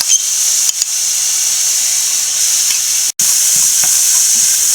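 Pork ribs spiced with chili powder, pepper powder and garam masala fry in a pan, giving a loud, steady, continuous sizzle throughout with one brief break.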